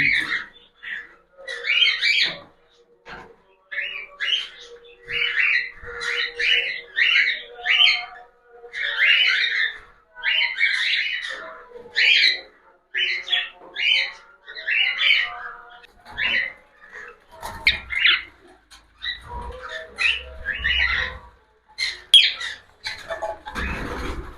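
Cockatiels squawk and chirp in rapid, repeated bursts close by, a restless run of shrill calls that barely pauses.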